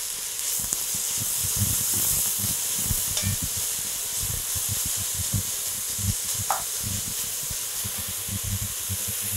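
Onions sizzle steadily in a hot pan for beef goulash, a constant hissing fry with faint crackles and a few light scraping clicks.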